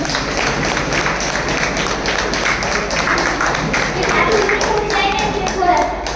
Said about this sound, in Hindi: इनके लिए एक बार तालियां बजा दीजिए